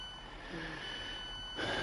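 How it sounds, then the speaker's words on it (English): Train doors opening in the Train Sim World 2 game, marked by a steady high electronic door-warning tone held throughout, with a rush of air and mechanism noise swelling near the end, no speech. "Let's open the doors."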